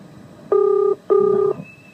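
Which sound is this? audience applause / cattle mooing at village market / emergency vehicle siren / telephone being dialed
telephone being dialed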